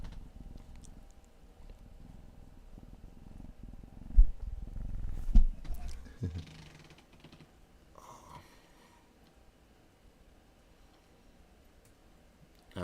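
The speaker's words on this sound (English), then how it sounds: "She's just purring." A pet cat purring up close, a soft low rumbling purr that swells in the middle and then fades to near silence, with a few faint clicks and rustles and no talking.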